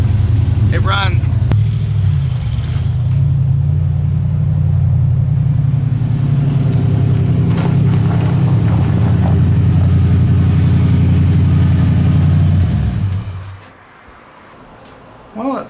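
An old junk truck with an exhaust leak idles loudly and steadily up close, a deep rumbling drone that carries on for about twelve seconds before cutting off abruptly into near silence.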